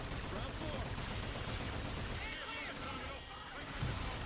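Gunfire in the video game Call of Duty Infinite Warfare as a player shoots out windows, a dense continuous barrage of shots with crashing debris filling the whole stretch.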